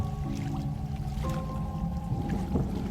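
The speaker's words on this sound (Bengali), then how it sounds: "দেখতে দেখতে ডিঙি নৌকাটা আমাদের একেবারে সামনে এসে দাঁড়ালো।" A small wooden dinghy coming to a stop close by on the water in rural Bengal during the rains, with a low steady hum and soft splashing and sloshing, faint and continuous, with no one talking.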